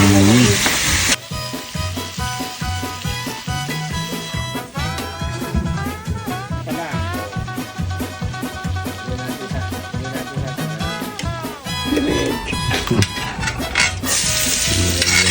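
Pork binagoongan sizzles and fries steadily in a pan, with stirring scrapes and clinks throughout; the frying stays loud and close for the whole stretch, with a brief dip early on.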